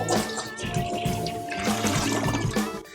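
A toilet flushing after cleaning with cola, a continuous rush of draining water close by, loud and steady with no talking.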